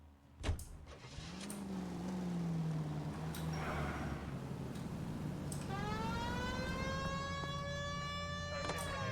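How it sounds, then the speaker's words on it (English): A police car siren in the video game L.A. Noire starts wailing partway through, rising in a steady, loud, harmonic-rich tone over a continuous low car engine rumble, with no voices. "We have a siren."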